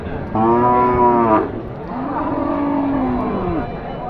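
A skinny cow moos twice up close at a cattle market in Sirajganj, Bangladesh: a short, strong call, then a longer, lower one.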